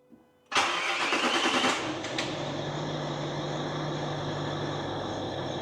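A Range Rover engine cranks briefly and catches with a loud burst, then settles into a steady, even idle hum that carries on close by to the end.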